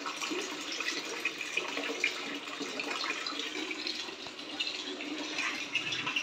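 Water runs steadily from a household tap into a sink, a continuous broadband splash that holds an even level throughout, with no talking.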